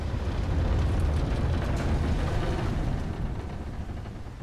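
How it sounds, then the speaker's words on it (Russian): Waterfall in the Tomb Raider Anniversary video game, a loud, constant rushing roar of falling water that eases off slightly toward the end, with no speech. "Водопад, да?"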